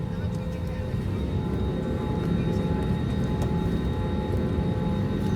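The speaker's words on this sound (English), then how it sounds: "the aircraft is pressurizing right now, and we are going at 21 knots" Inside the cabin of a Boeing 767-300 widebody airliner taxiing at about 21 knots while pressurizing: a steady, loud, low engine and airflow drone that stays even throughout.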